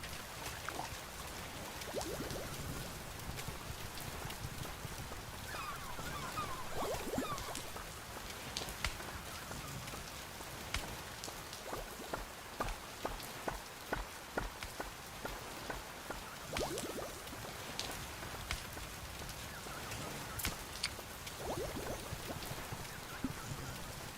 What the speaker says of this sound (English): Day 97. Light rain.